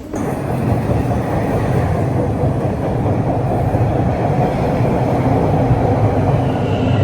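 Loud, continuous rumble of a Toronto Line 5 Eglinton Crosstown train running, with rattling wheel clatter throughout and no voices.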